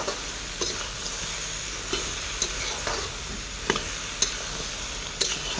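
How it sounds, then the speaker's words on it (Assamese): Ginger and garlic fry in a pan, a steady close sizzle with periodic scraping clicks of stirring every second or so. "আদা নহৰু দিছোঁ, এতিয়া ভাজি লৈছোঁ।"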